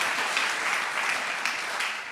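A room full of people at a talk applauds briefly, a soft but steady patter of many hands clapping, heard alone without speech.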